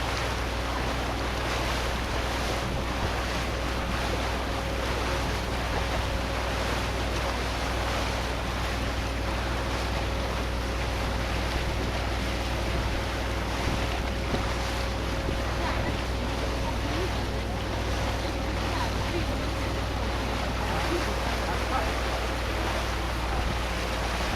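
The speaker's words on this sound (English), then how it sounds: "지금 유람선을 타고 가고 있는데 굉장히 멀리까지 나가네요" Steady engine drone of a tour boat moving across open water off Malmö, with wind and a low continuous hum throughout, no talking.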